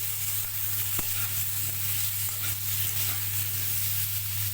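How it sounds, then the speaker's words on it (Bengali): Potatoes seasoned with salt and turmeric fry in oil in a wok, giving a steady soft sizzle with a few light scrapes and clinks from stirring. "কড়াইয়ে আলু দিয়ে দিয়েছি, আলুর উপর নুন হলুদ দিয়ে দিয়েছি। এবার নেড়ে নিচ্ছি।"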